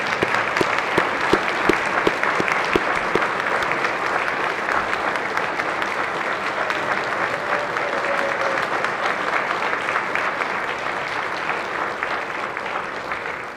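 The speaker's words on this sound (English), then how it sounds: "if you'd please all stand and give them a round of applause" Sustained applause from a large standing crowd on a Senate floor, steady and dense throughout, with a few sharper claps near the start.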